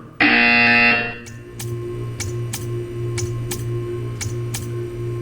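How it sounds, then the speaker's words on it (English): In the game Portal 2, a loud harsh buzzer blares for about a second, then a steady hum continues with a series of sharp, evenly spaced ticks, close and clear with no talk. "You will hear a buzzer."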